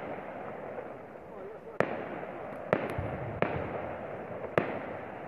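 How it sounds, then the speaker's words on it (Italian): New Year's fireworks pop and crack at a distance, five sharp bursts spaced irregularly over a steady background murmur, with people talking nearby. "anche là fuochi d'artificio."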